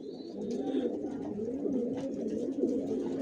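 Racer pigeons kept in a loft give a continuous series of low throaty coos up close, overlapping calls with a few brief higher chirps and no talking.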